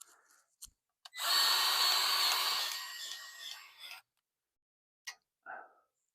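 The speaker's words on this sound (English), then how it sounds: "We got the lock and loop fitting and the Milwaukee greaser." A Milwaukee cordless grease gun pumps grease into the zerk fittings on a John Deere 1025R tractor's pallet fork grapple: one close, loud motorized whir of about three seconds, with a few small clicks and handling sounds before and after.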